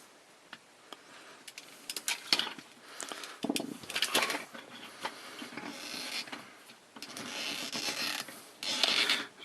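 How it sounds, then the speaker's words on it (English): Cotton swab twisting in a small hole in a plastic Transformers Energon Scorponok toy, clearing out plastic shavings: close, faint creaking and scratchy rubbing in irregular bursts. "I'm going to take the Q-tip and get these shavings out of the way now."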